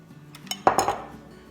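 A metal pot of milk for Greek yogurt is lifted off the stove, giving a sharp metallic clank followed by a brief ringing clatter up close.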